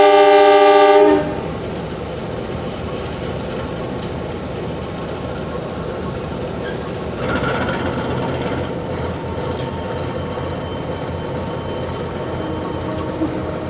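A train horn blares briefly, then the low rumble and clatter of the Mutiara Timur executive train departing along the tracks in Indonesia continues, growing slightly louder partway through.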